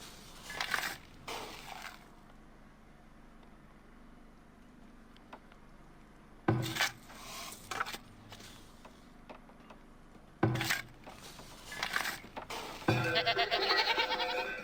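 Several short video-game goat bleats come in separate bursts against a quiet, faintly ticking background, each call brief and fairly close.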